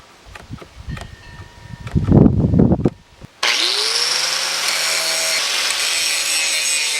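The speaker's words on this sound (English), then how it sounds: "use my angle grinder to get all the dimensions of these to exactly the same dimensions as this one" Angle grinder shaping clamped wooden pieces for a Halloween skull mace: a few knocks and rubbing sounds from handling, then the grinder kicks on abruptly and runs loud and steady, with a high whine that settles to a constant pitch.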